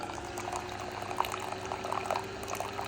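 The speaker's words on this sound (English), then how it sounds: "And this is a big machine. This is the big Keurig." A large full-size Keurig coffee maker brewing while powered from an Anker Solix C1000 power station, giving a steady close bubbling, gurgling hiss of hot water and liquid flow with a few louder spurts.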